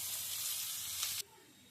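Food fries in a pan in a home kitchen with a loud, steady hiss of sizzling oil that cuts off abruptly partway through, leaving a quieter background.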